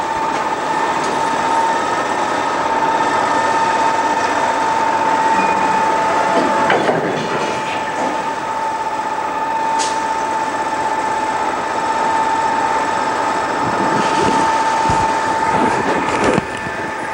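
An electric train runs on rails with a loud, steady rolling rumble and a constant hum, and brief wheel clatter and clicks rise through the run.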